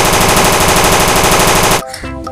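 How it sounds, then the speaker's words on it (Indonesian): A toy M4 gun blares a loud electronic rapid-fire sound effect, a dense steady rattle of shots close up that cuts off abruptly, followed by a brief quieter electronic tone. "Senjata M4."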